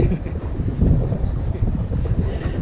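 Wind rushes steadily around a sailboat under full sail at about 4.8 knots with its engine switched off. Loud, close wind buffets the microphone over the low wash of water, and no one speaks.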